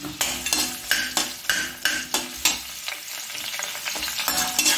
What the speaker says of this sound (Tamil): எண்ணெய் காஞ்சோடனே வெங்காயத்தை போடணுங்க.